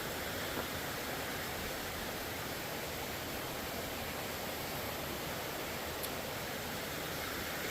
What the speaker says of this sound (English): Never been on this side of this little creek.